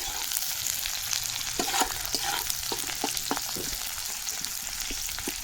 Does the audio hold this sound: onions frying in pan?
yes